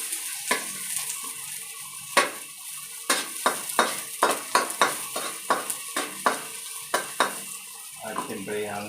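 Onions sautéing in a hot frying pan for an eggplant dish, with a steady sizzle running underneath and repeated sharp scrapes and taps of a spatula stirring against the metal, close and fairly loud.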